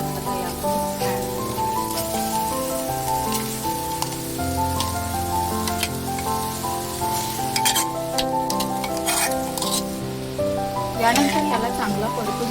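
Leftover cooked rice with coriander is stir-fried in a pan, giving a continuous soft sizzle and occasional scraping stirs, moderately close, under steady background music.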